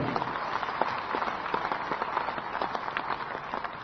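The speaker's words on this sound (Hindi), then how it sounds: "मैं चाहूंगा कि आप सब लोग उनके लिए एक बार जोरदार ताली बजाएंगे।" Steady audience applause at a political gathering in Chhattisgarh, dense overlapping claps sustained evenly throughout at moderate loudness, with no clear talk.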